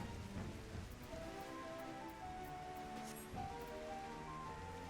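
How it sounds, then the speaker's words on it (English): Rain ambience in the video game Final Fantasy XIV, a steady soft hiss of falling rain running throughout at low level, with faint tonal game music layered beneath it. "I feel like it's raining"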